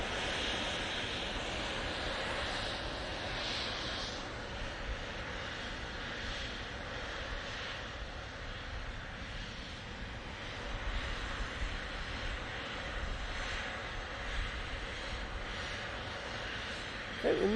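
Airliner jet engines roar steadily at a distance, a broad continuous rumble and hiss that swells slightly toward the end, heard outdoors at Manchester Airport with wind-like noise and no talking.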